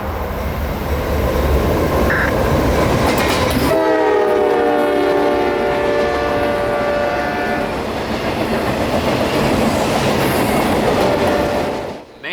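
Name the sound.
CSX work train passing at night, sounding horn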